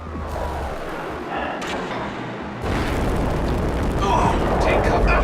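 Phaser fire from a Star Trek video game blasts out vents in a loud, dense wash of crackling energy bursts that builds and thickens midway, heavy game action throughout.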